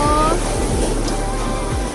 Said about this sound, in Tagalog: Kaso lang, sobrang lakas ng alon.